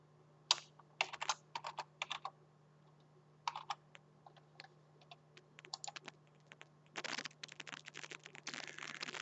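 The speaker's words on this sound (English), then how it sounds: "So please type in that password and click Next." Keys clack on a computer keyboard as a password is typed, scattered taps in short bursts with pauses, then a rapid run of keystrokes near the end, close and clear over a faint steady hum.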